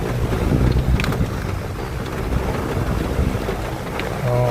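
A 4-wire 9–28V brushless DC fan motor runs at gear-switch speed 3, producing a loud, steady rush of airflow with a constant broadband whoosh that holds throughout.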